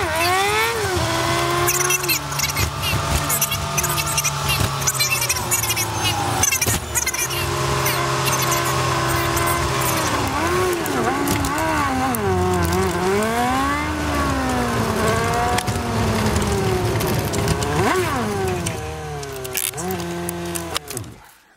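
A car drives along at length with a steady engine note that rises and falls through gear changes and acceleration, heard from inside and fairly loud throughout.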